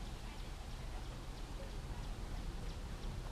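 Rain falls steadily as a soft, even hiss of drops, faint and unbroken, with no voices.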